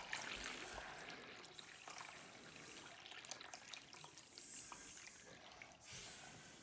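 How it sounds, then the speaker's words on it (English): Water pours steadily from a jug into a container, a continuous rushing splash that lasts throughout at moderate loudness, with slight surges and no clear talk over it. "Keep going, pour it in as fast as you can."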